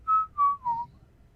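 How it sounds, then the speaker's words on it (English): A person whistles three clear sustained notes of the Pokémon theme, each slightly lower than the last, close and alone against a quiet background. "I'll whistle the Pokemon music, perhaps."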